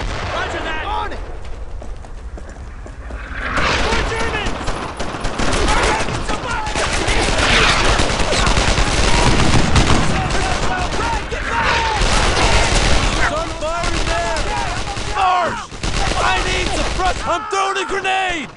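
Sustained gunfire in the World War II shooter Brothers in Arms: Earned in Blood, with dense rifle and machine-gun bursts and booming shots filling the scene, loud and nearly continuous, while soldiers shout over the firefight.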